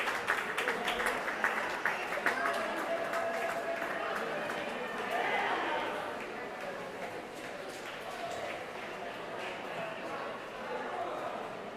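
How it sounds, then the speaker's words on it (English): A crowd at a high school swim and dive meet cheers and claps as a swimmer finishes a relay, a steady roar of voices and applause at moderate distance, echoing in an indoor pool hall. "Crowd cheering on Caden as he's finishing up the relay"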